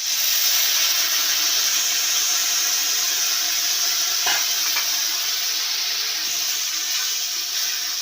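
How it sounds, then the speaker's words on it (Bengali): Maggi masala and soy sauce fry together in a pan for chowmein, making a loud, steady, close hissing sizzle throughout. A faint scrape or two is heard, and no one talks. "এই যে হালকা করে ভেজে নিচ্ছি পুরোটা।"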